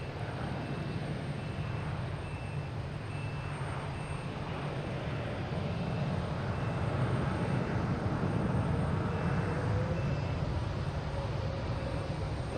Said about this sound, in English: JetBlue taking off, heading to Seattle.